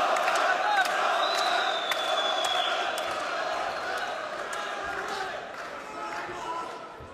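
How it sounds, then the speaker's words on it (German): Boxing crowd at a professional fight, a continuous loud roar of cheering spectators with scattered whoops and sharp knocks, fading slightly toward the end. "Da ist das Publikum."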